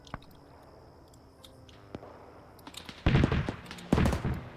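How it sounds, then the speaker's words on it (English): Cannon fire in the WW2 video game Arma 3, set in a desert defense: faint distant pops at first, then two loud, close booming bursts with rumbling tails near the end. "So we're seeing some cannon fire going off."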